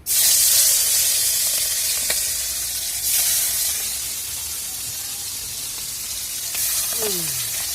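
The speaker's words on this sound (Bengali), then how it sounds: "এই যে কড়াইতে তেল দিয়ে দিয়েছি, এবারে এই যে ভেজে নিচ্ছি।" Rupchanda fish rubbed with salt and turmeric frying in oil in a wok, giving a loud, steady sizzle that hisses throughout, with a couple of faint clinks of a utensil near the end.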